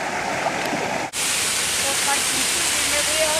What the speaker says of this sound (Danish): Ja, så kommer vi ned på foden af det her enorme vandfald.